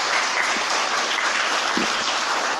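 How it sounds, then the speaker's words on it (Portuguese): A church congregation applauding, a steady, dense wash of clapping from many hands that holds at full strength throughout without letting up. "Vamos aplaudir a palavra do Senhor"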